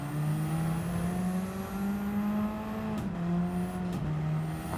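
A race car engine in Gran Turismo 7 drones at steady pitch, then shifts up twice in quick succession, each gear change dropping the tone briefly before it climbs again.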